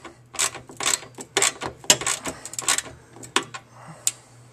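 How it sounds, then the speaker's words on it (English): Nuts being tightened by hand on the back of a replacement arcade monitor during mounting, a string of close, sharp metallic clicks and ratchet-like bursts in an uneven rhythm, with a faint low hum beneath and no talking. "Now we're just going to tighten the nuts around the back."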